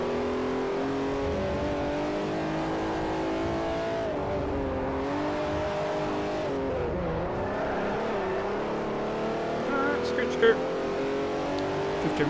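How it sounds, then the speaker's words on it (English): Race car engine in Forza Motorsport 4, drifting through corners with a sustained loud whine whose pitch sags and rises with the turns, faint tire squeal near the end, and a voice talking over it. "Drifting around those corners there."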